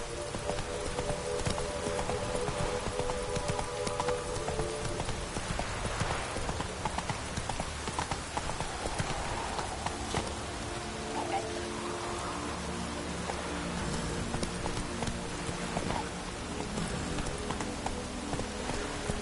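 Roach the horse galloping in the video game The Witcher 3, with continuous rapid hoofbeats and rain pattering throughout, plus the odd faint whinny, steady and fairly loud against a busy game soundscape.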